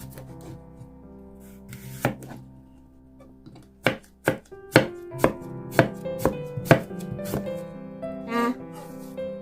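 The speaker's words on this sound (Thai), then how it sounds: "ก่อนอื่นเดี๋ยวดาสิหั่นแอปเปิลจักหน ่อย" A knife chops through apples on a board, a series of sharp thuds, sparse at first and then quicker and more regular, over faint background music.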